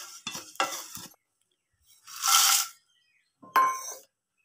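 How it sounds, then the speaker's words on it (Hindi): Fennel seeds dry roasting in a pan over a low flame, heard as three short bursts of stirring, scraping and light sizzling separated by brief silences, fairly close and with no talking. "ये सौंफ, इसको भी हल्का सा ड्राई रोस्ट कर लेते हैं"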